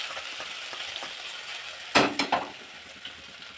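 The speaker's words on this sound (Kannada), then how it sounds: "ಈ ಥರ ಸ್ವಲ್ಪ ಎಣ್ಣೆಯಲ್ಲಿ ಇದು ಫ್ರೈ ಆಗಬೇಕು. ಇದನ್ನು ಮತ್ತೆ ಈ ಥರ ಮಿಕ್ಸ್ ಮಾಡ್ಕೊತಾ ಇದ್ದೀನಿ." Eggplant fries in a little oil, a continuous close sizzle, with a couple of louder scraping stirs near the middle and no talking.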